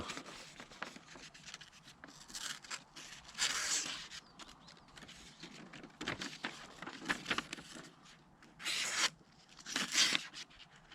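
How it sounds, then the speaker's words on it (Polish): A Ruike LD51 knife slices through paper in several short, crisp tearing swipes separated by quieter rustling and handling noise, all close up. "Chlasta papierek."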